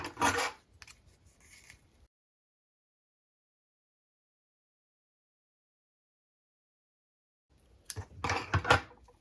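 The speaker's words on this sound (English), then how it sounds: "Now you can cut your 2 green pieces." Scissors snip through two small green crochet pieces, likely yarn leaves for a strawberry keychain; a short burst of close cutting at the start, then silence, and another brief crisp cluster near the end.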